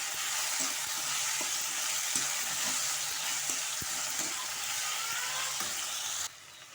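Steady loud sizzling of drumstick (moringa) and eggplant frying in a pan for a thokku, with occasional soft scrapes and taps of stirring, continuing throughout.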